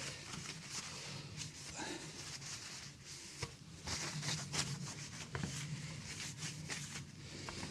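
Steel wool rubs a cheap second-hand saw blade during restoration, making a quiet, continuous scratchy rasp in uneven back-and-forth strokes with occasional small knocks.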